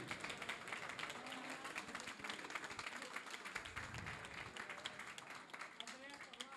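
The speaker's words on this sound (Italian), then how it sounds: "Un applauso anche a Alessandro De Marchi." An audience at an evening event with Davide Cassani applauds Alessandro De Marchi, steady dense clapping that sounds faint and distant throughout.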